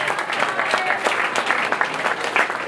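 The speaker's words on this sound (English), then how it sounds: "Give the great banquet team a round of applause for organizing this tonight." Audience applause at a county awards banquet, a busy, close patter of many hands clapping steadily and loudly throughout the short span.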